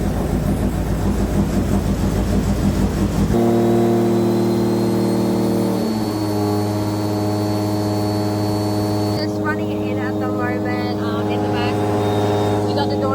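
A Toyota 1JZ engine fitted in a Nissan S13 runs for the first time since its oil pump failed, a loud rough roar settling into a steady droning idle with strong harmonic tones, close and continuous throughout.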